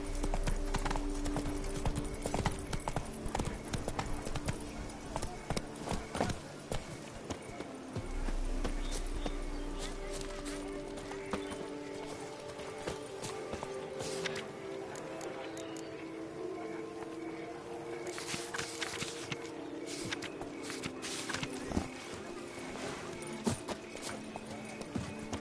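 Hoofbeats of a horse galloping in The Witcher 3 on PS4 pound in a fast, steady rhythm that settles into a lighter trot, with a character's voice talking over parts of it.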